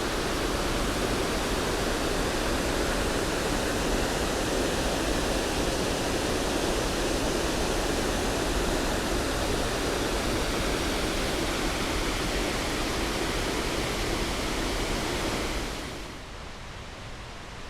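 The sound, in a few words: water flowing over a dam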